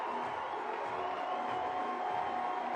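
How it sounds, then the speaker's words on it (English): A large soccer stadium crowd in Lexington roars and cheers continuously after a goal, a dense wash of voices at steady volume with no single sound standing out. "And listen to this crowd."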